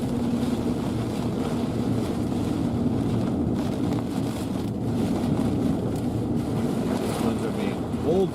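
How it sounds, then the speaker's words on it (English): Strong wind from a supercell storm in West/Central Texas roars steadily and loudly against the microphone, a constant rushing blast with a voice faintly underneath. "And now we're back in the front of the wind again."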